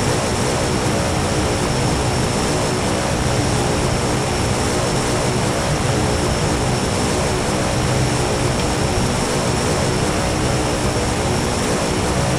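A Kodiak aircraft engine in the X-Plane 11 flight simulator roars at full power during takeoff, a loud, unbroken propeller drone with a constant high whine that stays steady the whole time.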